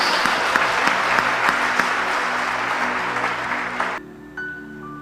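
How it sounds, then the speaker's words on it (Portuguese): A church congregation applauds during a sermon with a dense, loud burst of clapping. It holds steady for about four seconds and then stops abruptly, leaving a low hum and a faint sound or two. "Aplauda Jesus."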